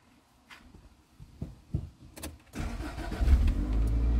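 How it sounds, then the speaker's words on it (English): A car engine is cranked and catches, settling into a steady idle at close range. A few knocks and small handling noises come first, then the engine fires at about two and a half seconds and keeps running loudly to the end. "I'll go start the car."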